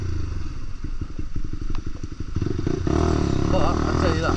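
A Lexmoto LXR 125 motorcycle with its stock exhaust rides in the rain. A chugging engine pulse quickens into a steady, loud roar mixed with road and wind rush, close to the microphone.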